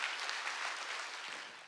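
A congregation at a Korean church revival service claps in a steady, dense wash of applause, many hands at once, sustained and slightly distant before tapering off.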